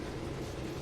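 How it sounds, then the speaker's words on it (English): A freight train in the Train Sim World game, with log, grain gondola and auto rack wagons, rolls past as a dense, steady rumble with faint rhythmic rail clatter, close and continuous. "It's a train!"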